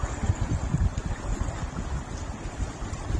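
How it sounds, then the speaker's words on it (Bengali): Waves churn under a sluice gate bridge, a low, rumbling wash of water with uneven surges and wind buffeting the microphone, continuous and fairly close. "কথা কম শোনা যাচ্ছে, শুধু ঢেউর আওয়াজ"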